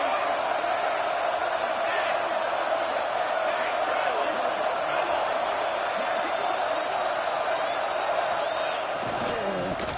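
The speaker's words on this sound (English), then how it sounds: "It's early, but this crowd is fired up. Listen to this noise here." A stadium crowd at a football game roars in a steady, dense wall of noise that holds throughout, with a commentator's voice faintly mixed in.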